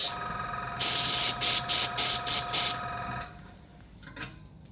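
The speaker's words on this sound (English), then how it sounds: "So spray a bit water here." A handheld sprayer spritzes water onto a champagne-bottle ice bucket cake in five or six sharp, close bursts, each a short hiss, over a steady hum, then falls quiet apart from a faint later puff.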